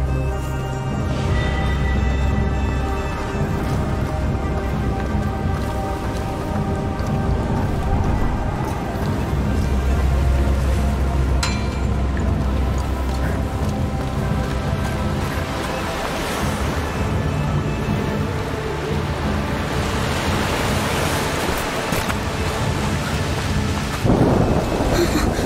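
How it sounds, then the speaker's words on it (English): A thunderstorm with steady heavy rain in the video game A Plague Tale: Requiem: continuous loud downpour with deep rolling thunder, a surf-like wash and a swell of sound near the end. "It's just a storm."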